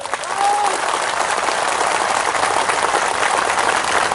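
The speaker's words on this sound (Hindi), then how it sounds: "थोड़ा जोर से ताली मारो" Audience applause at a political gathering in Tripura, steady dense clapping from a large crowd, loud and continuous throughout.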